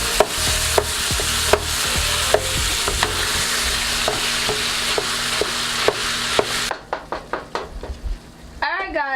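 Ground beef frying over medium-high heat in a pan, a steady loud sizzle with repeated sharp scraping and chopping taps from a utensil breaking up the meat, the sizzle dropping away near the end to leave clearer clatters.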